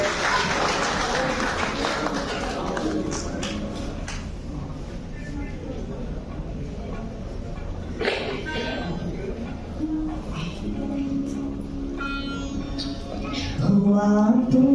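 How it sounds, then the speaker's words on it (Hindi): Applause and cheering from an audience at a Delhi centenary celebration event, steady clapping under the start that thins into scattered taps, with crowd noise and a rising musical or vocal tone near the end. "जोरदार जय घोष और तालियां"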